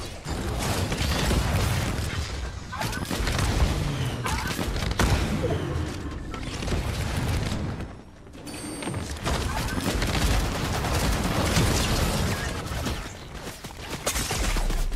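Continuous game combat from Fortnite, with repeated booming shots and thuds, sniper rifle fire among them, dense and loud throughout with a short dip, under occasional talking.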